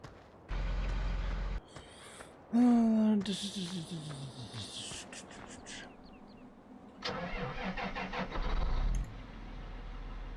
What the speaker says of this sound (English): Boy, this Case Magnum is a nice tractor right here.